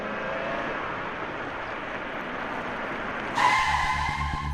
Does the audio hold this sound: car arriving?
yes